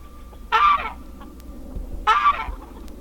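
A farm goose gives two loud, harsh honks about a second and a half apart, close by, over a quiet outdoor background.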